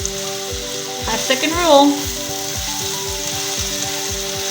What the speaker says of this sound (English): Saute them, mix them very well.